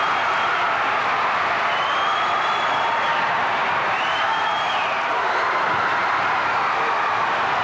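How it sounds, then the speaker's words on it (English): A wrestling arena crowd roars and cheers at a steady, dense level throughout, a loud, continuous wash of many voices with no clear pauses. "Now listen to the crowd."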